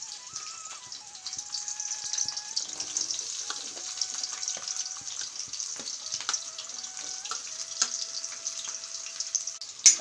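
Onion pieces sizzling in a pan: a continuous bright crackling hiss with high whistling tones drifting over it and a sharp knock at the very end.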